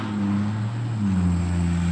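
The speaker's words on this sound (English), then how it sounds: "Here we go, y'all. Loud trucks." Heavy trucks rolling past on a road, a loud, steady engine drone with low rumbling tones that shift in pitch as they go by, close and continuous with no talking.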